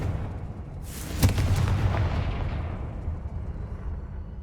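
A Confringo blast spell from the Hogwarts Legacy video game bursts in with a sharp explosive crack, then rolls into a broad, rumbling boom that slowly fades over several seconds, with no voices.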